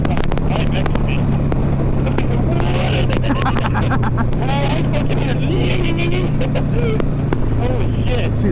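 A sport bike's engine passes on the road, its rising drone heard from a Harley Sportster through heavy wind rush and the rider's own engine hum, with talking over it.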